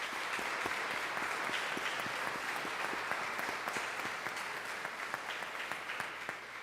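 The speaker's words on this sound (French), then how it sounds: "Aidez-moi à les applaudir et leur dire merci." A church congregation at a Sunday Mass applauds the families who took part in the liturgy. The clapping is sustained and even, moderately distant, with crisp individual claps standing out over the room's reverberant wash.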